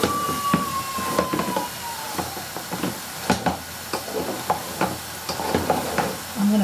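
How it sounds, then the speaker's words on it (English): Samosa filling stirred in a hot pan, giving a steady sizzle with repeated scraping strokes at an irregular pace, close and fairly loud, with no talking. "give that a good stir, and then leave it on a low heat for about another 5 minutes"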